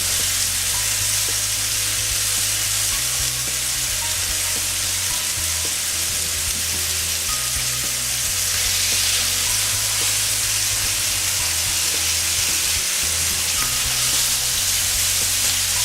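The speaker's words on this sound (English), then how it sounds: "Flip these burgers, see what they look like." Burgers sizzle and spatter steadily on a George Foreman 15-serving indoor/outdoor electric grill, a loud continuous frying hiss close up with no talking.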